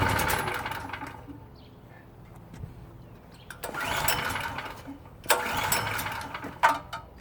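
A PowerSmart PS44 3000W generator engine being pull-started, a few rough cranking bursts that sputter without settling into a run, close by over a low background.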